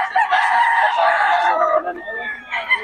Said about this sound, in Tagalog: naulan na yung mga manok ni Boss Tony, oh.